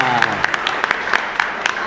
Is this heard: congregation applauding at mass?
yes